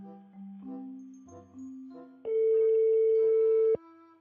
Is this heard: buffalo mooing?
no